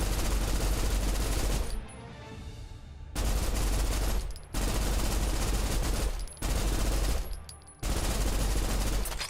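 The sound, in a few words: gunfire from shooting enemies in the video game Snowbreak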